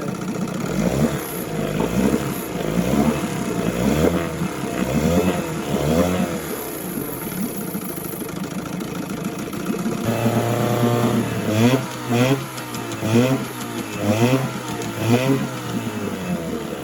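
A 1972 Evinrude Fisherman 6hp outboard motor runs steadily and close by, its engine note rising and falling through several revs before settling into a lower, even idle after about ten seconds.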